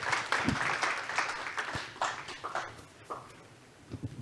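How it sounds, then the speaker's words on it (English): Audience applause at an afternoon session of an innovation summit, a dense wash of clapping from a seated crowd that swells and then thins out over a few seconds. "A round of applause to welcome him, please."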